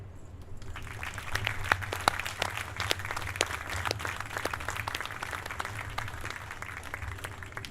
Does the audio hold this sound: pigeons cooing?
no